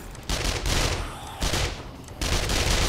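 Gunfire in 7 Days to Die comes in loud, close bursts of rapid shots, three separate volleys split by short pauses, with no talk.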